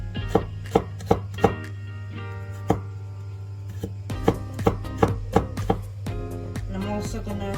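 A knife slices and chops ingredients for wontons on a cutting board, sharp close knocks landing singly at first and then in quicker bursts, with faint hum beneath and no talk.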